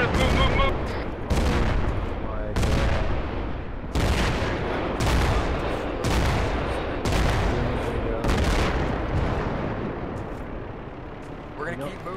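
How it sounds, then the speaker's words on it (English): Mortar fire and gunfire in the ARMA 3 military game in an Iraq counter-insurgency setting: repeated loud booming impacts land roughly every second over a constant roar of battle, close and heavy. "More mortars, move."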